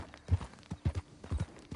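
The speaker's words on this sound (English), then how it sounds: "Oh, there's horses in here." Horse hooves clip-clop in the Western video game Red Dead Redemption 2, a steady run of close, distinct hoof strikes on hard ground with no talking.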